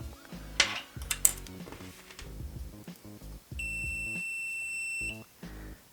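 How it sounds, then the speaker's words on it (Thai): A MUSTOOL MT13 mini smart multimeter gives a steady continuity-test beep of about a second and a half, loud and close, alongside a couple of short clicks and clatter of the probes. "ซึ่งวัดค่าความต่อเนื่องเขาจะแจ้งเตือนเมื่อการวัด ค่าความต้านทานที่มีค่าโอห์มต่ำมากกว่า 50 โอห์ม"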